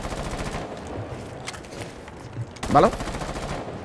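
Gunfire in Rainbow Six Siege, a steady rapid rattle of automatic shots running throughout, with a sharper loud burst near the end and someone talking over it.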